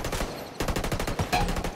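Rapid gunfire in the Ghost Recon Wildlands PVP shooter, dense bursts of shots crackling repeatedly and loudly in an unbroken barrage.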